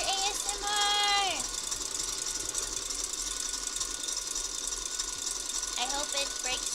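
Loud electric mixer whirring steadily while whipping cream for lemon blueberry trifle, a constant rattly motor buzz, with a short voice over it at the start and again near the end.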